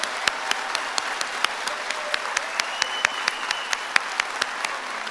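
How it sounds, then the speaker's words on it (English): An audience at a 2023 health professions school commencement applauds the military members and veterans standing among them, a steady, dense wash of clapping with sharp individual claps popping out, sustained throughout. "Let's give these people a round of applause."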